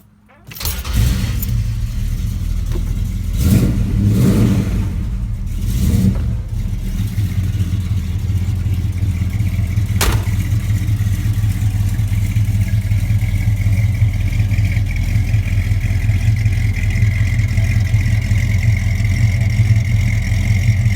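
A 1968 Dodge Charger classic muscle car cranks and fires up, revs a few times, then settles into a loud, steady, rumbling idle close by.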